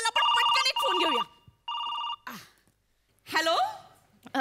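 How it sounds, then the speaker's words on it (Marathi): A telephone rings with an incoming call during a comedy sketch show, sounding in loud, repeated electronic bursts broken by short gaps, mixed with gasps and expressive voices. "लगेचच प्रेक्षकांचा फोन आला."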